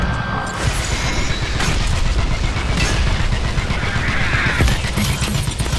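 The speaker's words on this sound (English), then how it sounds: "Airstrike ultimate!" LEAP video game airstrike ultimate, a dense, loud barrage of explosions and rattling gunfire with crashing debris, continuous and chaotic throughout.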